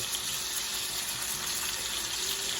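Blackened catfish fillets sizzling in a cast iron pan, a steady dense hiss and crackle of frying that carries on evenly throughout with no talk.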